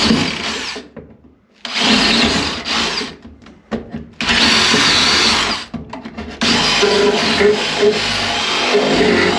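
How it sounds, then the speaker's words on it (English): A power drill bores holes in wood in several bursts, loud whining runs separated by short pauses, with the motor spinning up and cutting steadily each time. "I'm going to drill a couple of holes here"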